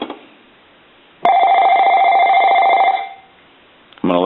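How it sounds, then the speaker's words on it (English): AT&T 5515 cordless telephone base unit rings once with a loud electronic warble lasting under two seconds, then falls silent before a brief sound at the very end. "So what we're going to do is go ahead and ring the base unit."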